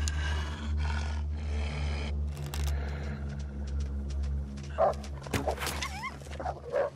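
A wolf in the video game The Long Dark snarls and growls close by over a low steady drone, breaking into sharp yelps and whimpers toward the end, with no talking.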